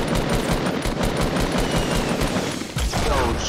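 Rapid automatic gunfire and overlapping shots from a Fortnite match, loud and continuous, with a brief dip near the end before the firing resumes.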